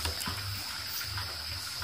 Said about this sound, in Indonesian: Jadi di belakang ini sudah sungai dan juga semak belukar. Itu sungai ya teman-teman, Anda bisa lihat di sana ya.